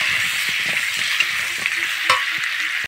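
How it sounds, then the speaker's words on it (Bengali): Potatoes being fried and stirred in a pan with lightly fried capsicum and onion in a village kitchen, a steady close sizzle with repeated scraping stir strokes and a sharp clack near the end. "ক্যাপসিকাম আর পেঁয়াজ হালকা হালকা ভাজা হয়ে গেছে, এর মধ্যে আমি আলুগুলো দিয়ে দিলাম।"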